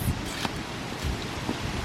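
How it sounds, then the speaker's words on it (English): Strong outdoor wind buffets the microphone in loud, rumbling gusts that swell and fade over a constant roar. "it's so windy, you probably can't hear us"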